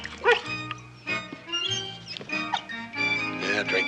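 A puppy whimpers, yips and gives short barks up close over orchestral music.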